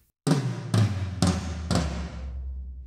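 Four heavy, booming drum tom hits at an even pace, each ringing out with a deep resonant tail, close and loud with no talking.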